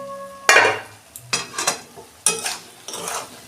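Lid lifted off a pot of slow-cooked Bengali spinach curry, a sharp metallic clank followed by a few more clinks and scrapes of metal on metal, close and fairly loud with no talking.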